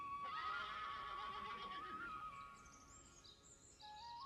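A horse in a Hindi cartoon story gives a long, wavering neigh that rises and trails off, loud and close, followed by light bird chirps over a quiet background.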